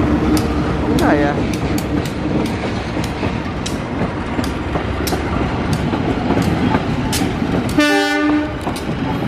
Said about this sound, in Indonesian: Ternyata kereta api lokal ini beloknya ke jalur 1.